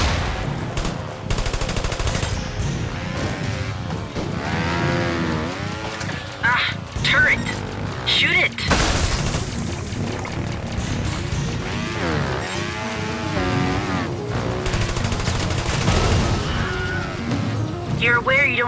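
Rapid automatic gunfire and bursts of shots from the video game Trials of the Blood Dragon, loud and sustained across the whole stretch, with game voices talking over it and occasional crashes.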